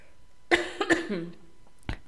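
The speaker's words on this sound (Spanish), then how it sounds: "Disculpen, tenía una tos." A couple of short, sharp coughs close to the microphone, followed by a brief pause and one more cough.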